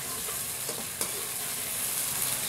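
Potatoes fry in hot ghee in a pan while being stirred, giving a steady bright sizzle with a few soft scraping knocks from the stirring.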